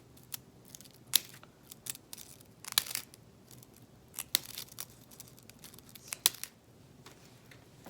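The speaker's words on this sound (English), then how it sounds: "we're going to come in and cut out little notches" Scissors snip notches into crepe paper, producing a series of quiet, crisp cuts spaced irregularly at close range, with faint rustling of the paper between them.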